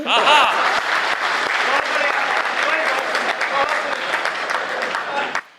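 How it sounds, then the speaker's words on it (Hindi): Steady audience applause at a Hindi poetry recital, many hands clapping throughout, loud and continuous, tapering off abruptly at the end. "गलत जगह ताली बजा रहे हो"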